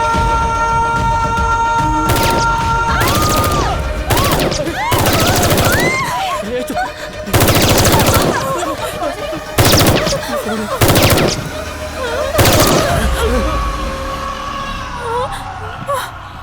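Machine gun fire from terrorists attacking a mall in a comedy film scene, heard as loud repeated bursts of rapid gunfire over a droning music score, with whimpering and wailing voices between the volleys.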